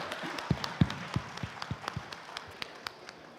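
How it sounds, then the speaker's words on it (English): Sparse, scattered hand claps from a conference audience at a Rotary district event, a dozen or so distinct claps spaced irregularly, moderately close and fairly quiet, with no talking. "Clap it, please."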